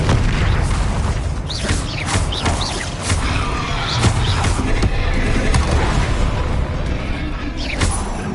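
Confringo blasting-spell explosions and other spell effects in a Harry Potter video game, repeated booms and crackling bursts over a dense, loud, continuous battle din.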